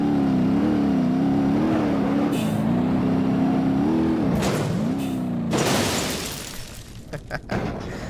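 A fast car's engine revs hard and wavers in pitch in the BeamNG.drive driving game, then gives way to a loud crash burst and scattered clattering impacts, up close with no talk.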